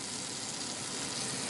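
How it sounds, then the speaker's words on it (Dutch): Schnitzel frying in a pan gives off a steady, soft broadband sizzle that holds even and quiet throughout, with no talk over it. "Schnitzel is lekker aan het bakken."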